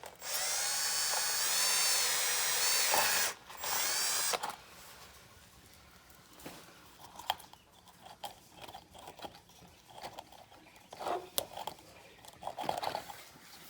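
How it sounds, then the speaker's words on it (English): A power drill whirs loudly in two bursts, drilling a 1/4-inch hole in a 2003 Crown Vic front lip, pausing briefly between them, followed by scattered clicks and light handling noises. "I'm going to drill the 1/4-inch hole about center of the lip"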